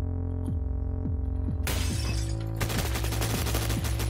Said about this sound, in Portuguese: Tão tacando tiro aqui perto, velho.